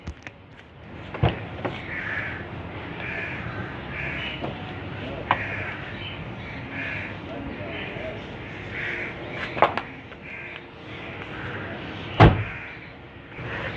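The rear door of a 2014 Toyota Land Cruiser 70 Series pickup opens and shuts with several sharp clunks and latch clicks, the last one loudest, over faint background noise and distant caws.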